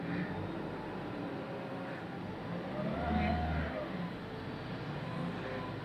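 A manual-transmission car on a public road holds a steady engine drone around 2000 RPM, rising slightly in the middle. The sound is fairly faint, beneath broad road and cabin noise.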